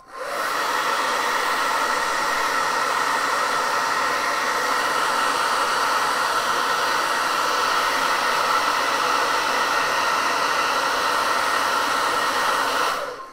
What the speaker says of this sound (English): However, take my hair dryer.